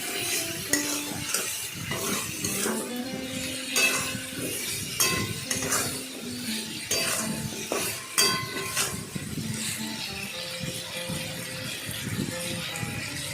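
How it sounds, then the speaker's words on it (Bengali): Potatoes coated in turmeric are stirred in a pan, with steady scraping and clinking of a utensil against the metal over a soft background sizzle and some background voices. "হলুদ দিয়ে আলুটাকে ভালো করে নাড়াচাড়া করলাম"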